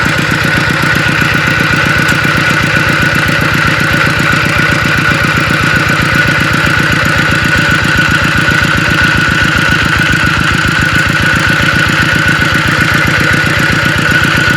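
A worn farm tractor's engine running continuously close by, a loud, steady rapid chugging with a knocking beat, unchanging for the whole stretch with no voices.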